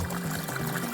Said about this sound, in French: petit bassin d'eau, hop, qui coule tranquillement dans ce petit bras d'eau là